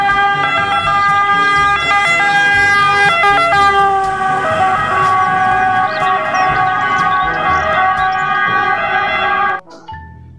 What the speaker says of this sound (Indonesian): Yang terakhir ada mobil ambulans.